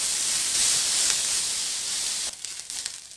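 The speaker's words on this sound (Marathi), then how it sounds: "कांदा छान लाल परतून घ्यायचा." Onion frying in a pan for katachi aamti gives a continuous, loud sizzling hiss up close, which drops away abruptly near the end to a few softer crackles.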